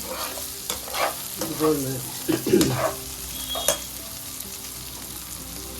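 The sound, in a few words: bitter gourd frying and being stirred in a covered pan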